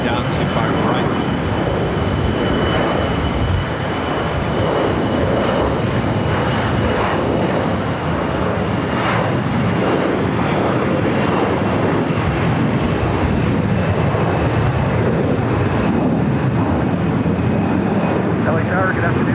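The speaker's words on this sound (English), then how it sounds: "Delta A321 now rolling down to far right." A Delta Airbus A321 rolls for takeoff on the far right runway at LAX, its jet engines a loud, steady roar throughout, with faint tower radio chatter in the background.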